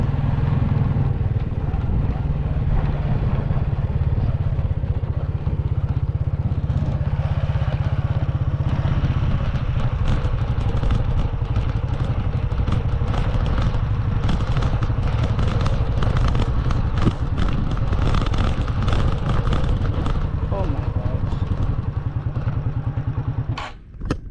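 A motorcycle engine runs steadily and close for the whole stretch, a constant low rumbling drone with rattles and clatter, outdoors at a building site in Africa, fading briefly at the very end.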